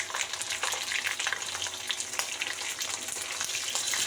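Chicken pieces sizzle and crackle in hot oil with browned onions for a restaurant-style chicken biryani, a steady, busy frying hiss with occasional stirring scrapes, close and continuous throughout.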